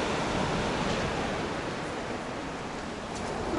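Steady broadband rush of Baltic Sea surf at Zelenogradsk, continuous and fairly loud, with no voices over it.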